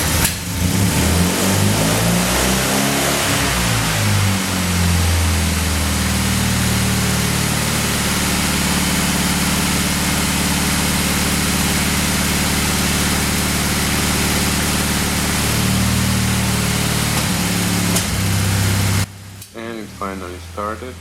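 A 1966 Triumph Spitfire MK2 engine cranks, catches and runs roughly with a bad misfire, loud and close, its uneven idle rising and falling before cutting off abruptly near the end.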